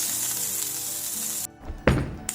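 Food for a homemade loco moco sizzles steadily in a pan over medium-low heat, a close, even hiss that cuts off abruptly, followed by a single solid clunk as a lid goes on.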